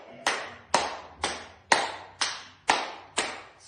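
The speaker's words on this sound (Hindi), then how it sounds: "सोच रहे होंगे ताली बजाने से क्या फायदा, ये आगे और पीछे क्यों बजाई जा रही है" Hands clap in a yoga exercise, alternately in front of the body and behind the back: seven crisp, evenly spaced claps, close and loud, each with a short decay.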